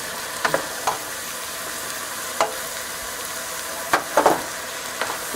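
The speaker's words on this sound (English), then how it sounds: "See, it is sizzling." Whole mung bean bhaji sizzling in a pan over medium-high heat, with a steady frying hiss and several sharp scraping stirs at irregular intervals, close and clear with no talk.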